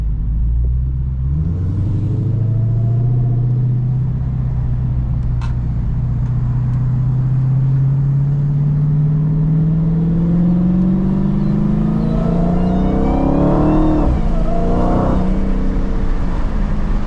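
A factory Dodge Hellcat at a bracket race, engine rumbling loud and close as it revs up and accelerates hard, its pitch climbing steadily over many seconds with no voices.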